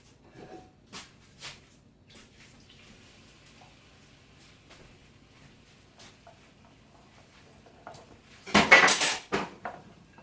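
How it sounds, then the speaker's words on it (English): Radishes are poured out onto a metal cookie sheet in a brief loud clattering rush near the end, after several faint scattered clinks and taps. "so now I'm going to pour them out on a cookie sheet."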